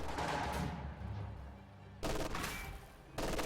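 An MG42 machine gun fires in the strategy game Company of Heroes, two short bursts of rapid gunfire cutting in after a quieter battle bed, fairly faint overall.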